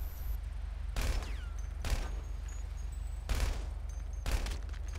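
Gunfire in the video game GTA Online comes as four separate sharp bursts of rapid shots spaced about a second apart, over a steady low game-audio hum.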